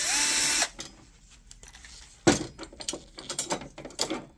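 A power screwdriver whirs briefly on a screw in the top cover of a Konica Minolta Bizhub copier during a hard drive replacement, followed by a series of sharp clicks and handling knocks.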